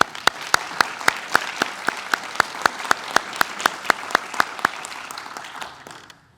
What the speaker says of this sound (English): We have another round of applause for Adeline.